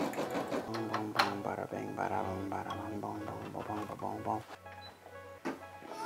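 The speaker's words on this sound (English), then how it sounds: "it's stitching out great, you know? Doing what it's supposed to do, it's not giving me any problems." Brother SE600 embroidery machine stitching a TV channel patch, a steady mechanical whirring hum with rhythmic needle ticking, heard close under someone talking throughout.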